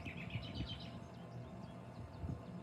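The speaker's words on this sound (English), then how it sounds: "You hear some robins over there?" Robins call in a backyard, a few short chirps in the first second, moderately distant over a steady low mechanical hum and rumble.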